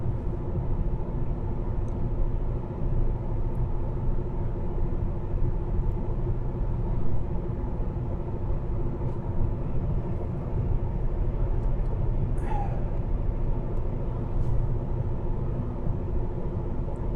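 Interior road noise from a car on a single-lane German expressway near the Autobahn: a steady low rumble and tyre drone that stays constant throughout, with no voices.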